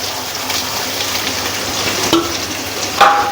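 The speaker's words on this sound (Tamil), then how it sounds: "இந்த வெங்காயம் போட்டு நல்லா மிக்ஸ் பண்ணிக்கணும்." Chopped onions and green chillies sizzle and crackle steadily in hot oil in a pan while cooking a fish head gravy, with a brief scrape of a spoon stirring near the end.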